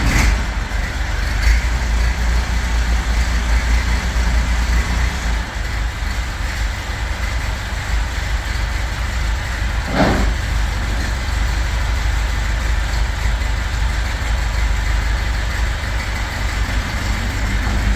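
A Bombardier Muskeg tractor's engine runs loudly and steadily nearby, a constant heavy rumble with little variation across the whole stretch.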